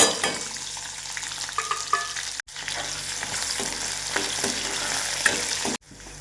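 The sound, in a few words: chili, garlic, peanuts and moong dal frying in hot oil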